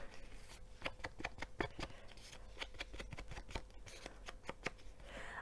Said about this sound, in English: I'm just going to go in with a little bit of gathered twigs, distressing just to go around the edges